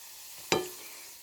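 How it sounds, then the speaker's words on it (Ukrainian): Eggplant deep frying in hot oil gives a single brief, faint crackling burst over a low steady sizzle, heard alone without voices. "А поки досмажуються у нас там останні наші баклажани"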